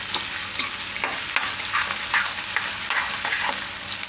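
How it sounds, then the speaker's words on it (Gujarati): Chopped onions fry in hot oil for a Gujarati kantola shaak, a loud, steady crackling sizzle close by, broken by repeated scraping strokes of a spoon stirring through the pan. "તેલમાં થોડીક આ ડુંગળીને પાકવા દેવું."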